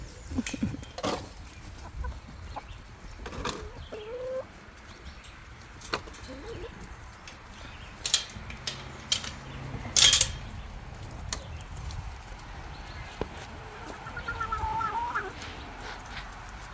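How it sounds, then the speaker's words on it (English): Garden hens give scattered, soft clucks and brief calls against quiet outdoor background, with a few louder bumps and rustles between them. "At least we have some happy hens"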